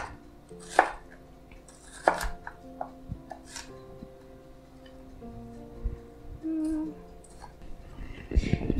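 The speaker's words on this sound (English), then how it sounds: "we're just going to dice this like we did with the tomato" An onion being diced with a knife on a cutting board for bruschetta, giving scattered close taps and thuds at an irregular pace, with quiet kitchen handling noise between cuts.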